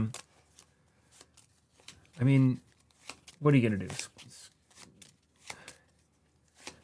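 Playing cards from a Netrunner game are shuffled in two quick riffled bursts, close and crisp, amid quiet table noise and a player's brief talk.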